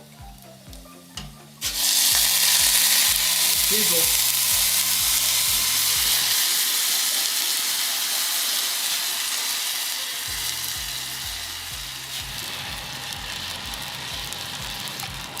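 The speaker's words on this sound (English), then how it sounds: "we're gonna take this base of the fish stock that we made, add it into with the mushrooms. Be very careful, some steam will happen" Fish stock poured into a pan of caramelized Ali'i mushrooms erupts into a loud, steady sizzle with steam hiss that starts abruptly and holds close and strong, over a low rhythmic hum; a voice speaks briefly beforehand.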